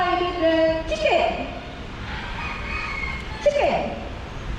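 A parrot at a bird park imitates a rooster's crow, giving two drawn-out crowing calls about two seconds apart amid background chatter and ambient noise.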